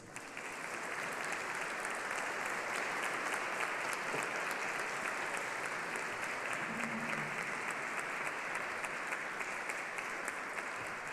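An audience at a devotional concert honouring Padre Pio welcomes visiting musicians from Lanciano with sustained applause, a broad, steady roar of clapping that rises quickly and holds for several seconds.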